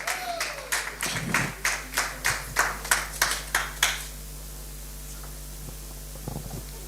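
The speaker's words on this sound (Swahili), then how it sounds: "Wapi makofi?" Audience applause at the official launch of the Mombasa Press Club: about a dozen sharp clap bursts in a regular rhythm that stop abruptly, leaving a low hum and a few faint taps.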